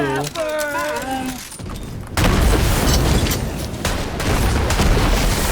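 Grenade explosions in Borderlands 3 burst out loud and dense, a continuous rumbling blast and crackle of booming detonations after a brief moment of tonal game sounds, sustained to the end.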